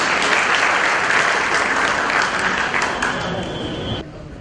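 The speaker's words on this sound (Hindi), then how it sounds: "एक बार जोरदार तालियों के साथ अपने मंडल के लिए तालियां बजाएंगे" A crowd at a party workers' thank-you gathering of the Milap Nagar Mandal breaks into loud, sustained applause, a dense wash of clapping that holds steady for about four seconds before dropping off sharply.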